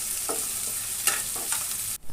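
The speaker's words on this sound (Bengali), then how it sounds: "পেঁয়াজটাকে ভালো করে নেড়ে চেড়ে একটু ভাজা ভাজা করে নেব" Chopped onion with bay leaf and spices frying in oil, with a steady sizzle broken by several short scraping stirs of a spoon in the pan, close and clear.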